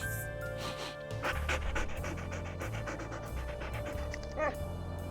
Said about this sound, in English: It's the dogs!